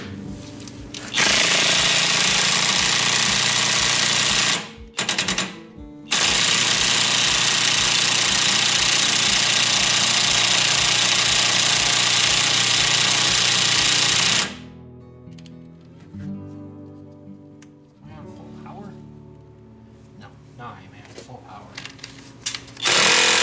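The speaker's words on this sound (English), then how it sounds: "let's get this one pushed out of here and spin it with the big impact gun" A big impact gun at full power spins a press to push out a ball joint on a 1993-98 Jeep Grand Cherokee ZJ, with a loud, sustained, close hammering rattle for over ten seconds, one brief pause, then quieter tool clatter.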